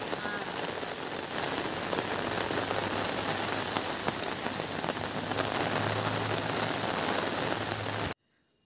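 Steady rain pours down in a tribal village, a dense even hiss of drops striking surfaces close by, continuing unbroken for several seconds before cutting off abruptly, with no talk.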